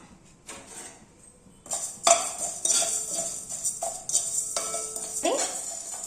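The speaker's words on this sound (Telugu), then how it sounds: "కొంచెం హీట్ అయ్యాక ధనియాలు, జీలకర్ర ఫ్రై చేసుకుందాం." Coriander seeds and cumin frying in a pan, heard as a metal spoon stirring and clinking against the pan in irregular bursts, close and fairly quiet.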